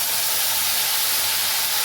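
A paste of nuts, ginger and green chilli sizzles in a hot wok with bay leaves, giving a loud, steady, dense hiss without a break.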